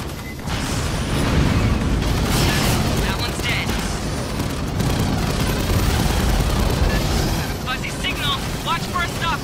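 Sustained gunfire in Aliens: Fireteam Elite as capacitors are shot, a dense, loud, continuous barrage of shots and booms with voices talking over it.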